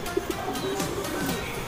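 Racing pigeons coo softly near their loft during a daily loft flying routine, a couple of brief low coos over steady outdoor background noise with fluttering.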